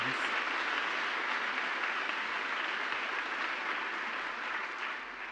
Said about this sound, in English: Let's give another round of applause for the Brass Quintet.